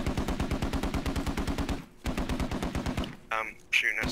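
Rapid automatic gunfire in the video game Squad: loud, close bursts of evenly spaced shots that keep a fast rhythm, break briefly, then resume before trailing into other game sounds.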